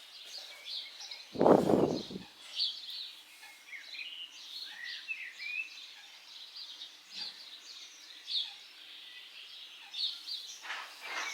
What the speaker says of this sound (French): Écoutez le calme, les petits oiseaux et tout.